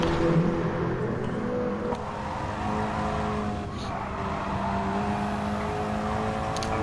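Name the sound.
KTM X-Bow race car engine, video game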